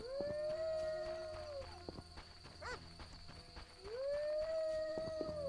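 In The Witcher video game, a dog lets out two long, drawn-out howls, one at the start and one at the end, with quieter game noises and faint knocks in the gap between.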